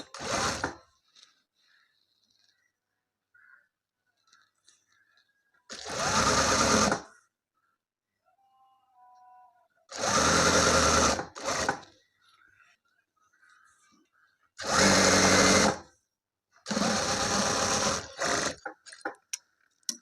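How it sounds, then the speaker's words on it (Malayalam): A sewing machine stitches a folded hem on cigarette pants in four or five loud, close bursts of rapid whirring, each lasting about a second or two, separated by near-silent pauses with faint handling clicks. "ഓരോരോ ഇഞ്ച് മടക്കിയിട്ട് നമുക്ക് തയ്ച്ചു കൊടുക്കാം"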